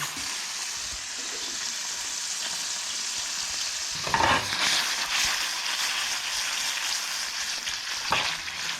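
Prawns sizzle in a hot frying pan, a steady loud frying hiss throughout with brief louder bursts as they are stirred and flipped, no talk over it.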